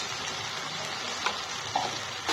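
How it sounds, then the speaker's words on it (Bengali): Turmeric and chilli powder frying in hot oil while being stirred for a Bengali hilsa fish curry, a steady close sizzle with a couple of brief spatula scrapes. "ভালো করে মশলাটা কষিয়ে নেব"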